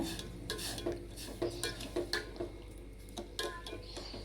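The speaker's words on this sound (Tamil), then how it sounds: "சர்க்கரையை சேர்த்துட்டு நல்லா மிக்ஸ் பண்ணிவிடுங்க" A spoon stirs sugar into water in a metal pan to make sugar syrup for jangiri, giving repeated close scraping and clinking strokes at an uneven rhythm with no talk.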